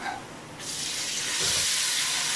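Water is poured into hot spices (red chili powder and turmeric) in a cooking pot, giving a steady hissing sizzle that swells and holds loudly.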